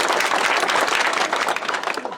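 An audience at a village meeting breaks into a burst of clapping, a dense, fairly loud applause that holds for about two seconds before starting to thin out.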